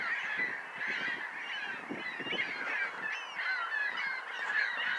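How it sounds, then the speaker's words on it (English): A large flock of geese honking together, a dense, continuous chorus of overlapping calls at moderate distance with no voices over it. "Oh my god, that's basically an army of birds."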